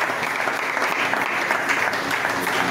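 A church congregation claps loudly and continuously in acclaim of the Lord, a dense, even wash of many hands applauding close by throughout, with no gaps.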